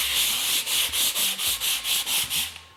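Rhythmic scraping over waxed concrete to remove a defect, nine or so steady back-and-forth strokes, close and fairly loud, ending abruptly.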